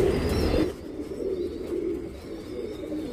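A tournament racing pigeon in Dasarahalli, Bengaluru, coos with a soft, low throaty sound, louder in the first half-second and then a steady murmuring coo that carries on close by without any talking.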